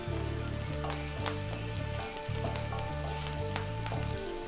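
Garlic and onion tempering for radish sambar sizzles steadily in hot oil, a close, continuous frying hiss with small crackles and a low pulsing hum beneath, no voices.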